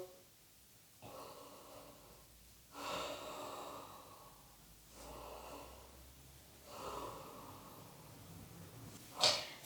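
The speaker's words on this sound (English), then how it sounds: "Breathing." Slow, controlled breaths during a yoga class held in extended child's pose: several long, audible inhale and exhale cycles, close and soft, with no talking.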